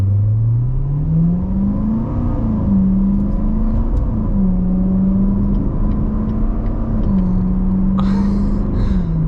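A Chevrolet Corvette C7 Grand Sport pulls hard in sport mode, its engine note droning and climbing steadily, dipping briefly at gear changes before rising again, loud and continuous from inside the car.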